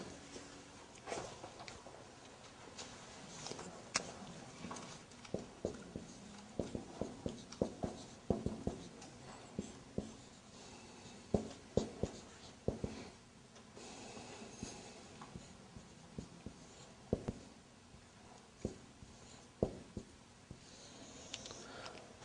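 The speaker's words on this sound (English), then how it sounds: "I'm going to write down." Pen or marker writing by hand during a lesson, soft scratching strokes and taps in irregular bursts, faint and close, with no talking.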